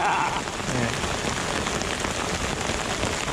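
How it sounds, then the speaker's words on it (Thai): Heavy rain pours steadily during an outdoor fishing trip, a dense continuous hiss of drops hitting surfaces, loud and close, with no talking. "ฟ้าฝนโหดด้วยนี่"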